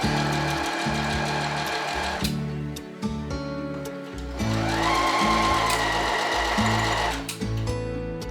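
Sewing machine stitching fabric for autumn clothes, running in steady rapid bursts with short pauses between seams, close and loud, no talking.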